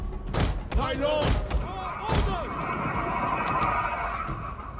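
Horses neigh and whinny amid a Total War: Rome II battle with Parthian horse archers, several loud whinnies overlapping game voices and thuds across a steady din.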